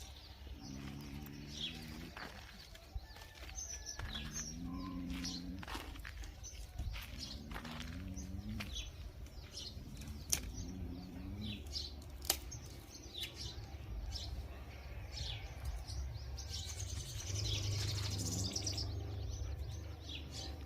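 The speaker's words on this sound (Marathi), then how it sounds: "चिव चिव चिमण्या" Sparrows chirp in scattered, rapid bursts over a steady outdoor background for about twenty seconds, joined by recurring lower cooing calls, all at a moderate distance.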